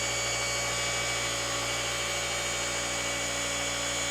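A cordless polisher buffs car paint with Gyeon Q2M cutting compound, giving a steady, loud, high-pitched whine with a constant motor hum and no pauses.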